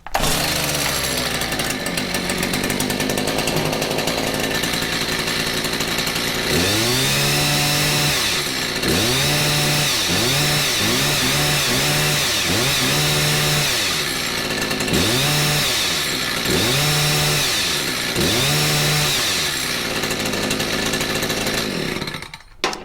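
A Stihl HS56 hedge trimmer's small two-stroke engine is pull-started and runs loud and steady, its pitch rising and falling in repeated revving bursts.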